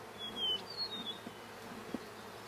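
Mountain Grey Caucasian honeybees buzzing during a smoked hive inspection on a warm day, with close, darting wingbeat whines of individual bees passing near over a soft background hum.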